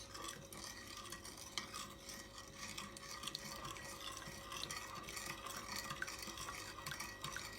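A spoon stirs strawberry jelly mix in a bowl with a soft, continuous gritty scraping and swishing, very quiet and close, with no voices.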